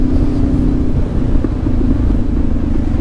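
A Honda CB500X motorcycle with a busted oil pan rides at low RPM, giving a steady, close, low engine rumble with no talk over it.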